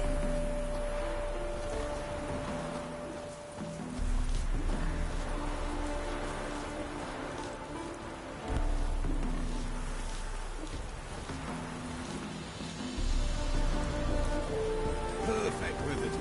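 Steady rain falls in The Witcher, pattering continuously on surfaces in a town setting, heard under game music with a low drone and occasional swells.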